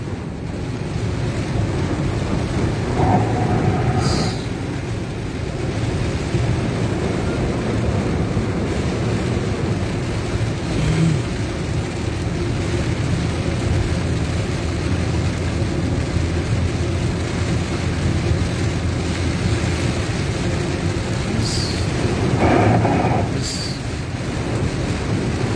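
Heavy rain falling outdoors as a loud, unbroken roar of dense noise, mixed with gusty wind buffeting the microphone, steady for the whole stretch with no talking.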